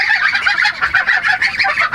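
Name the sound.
geese honking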